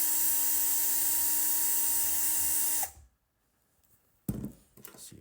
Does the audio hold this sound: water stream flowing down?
no